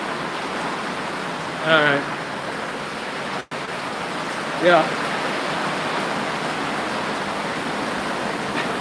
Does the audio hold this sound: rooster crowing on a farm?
no